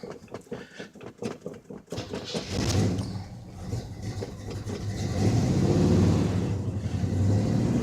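A 1984 Chevrolet pickup truck cranks over with a rapid rhythmic starter chug, catches on a cold start and settles into a loud, rumbling idle that swells slightly as it runs, close by in a garage.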